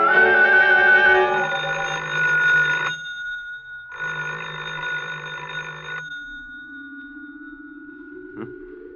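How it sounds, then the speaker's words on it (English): A telephone rings in two long electronic trilling bursts separated by a pause, loud and close, followed by a faint rising tone and a brief click. "I thought I heard the phone."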